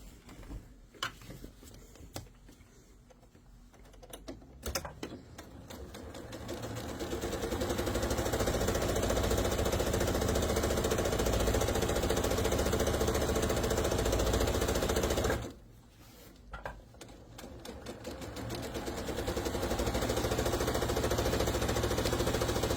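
A sewing machine stitching pillowcase fabric for a French seam: after some scattered clicks, the motor whirs up into a steady, fairly loud hum, stops briefly, then runs again, with no voices.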